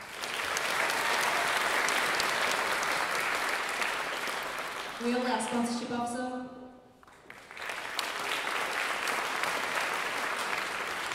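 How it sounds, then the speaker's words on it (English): A concert audience claps for the publications officers, steady broadband applause filling most of the span, dipping briefly while a voice speaks over it, then swelling back to full strength. "Please give them a clap."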